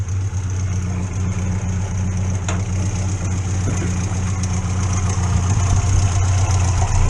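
A Morris Minor engine idles steadily nearby, a constant low rumble with a faint high whine, running alone without talk for the whole stretch.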